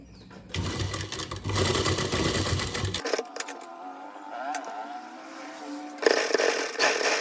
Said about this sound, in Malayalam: ശേഷം ഈ ഒരു അറ്റത്തെ കൂടെ സ്റ്റിച്ച് കൊടുത്തിട്ടുണ്ട്.